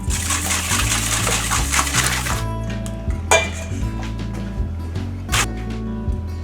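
A spoon clinks and scrapes against a bowl while mixing potatoes with salt, ground black pepper and chopped parsley for a Spanish omelette, in short irregular knocks over steady background music.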